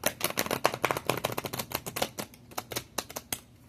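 Tarot cards being shuffled by hand, a quick, close run of crisp flicking and riffling snaps that slows and thins out toward the end.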